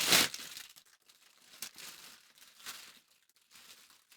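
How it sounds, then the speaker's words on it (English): Quiet, intermittent crinkling of a plastic bag being played with by a dog, a sharp rustle at first followed by scattered softer crackles nearby. "the noise you can hear is Muttley's found a bag"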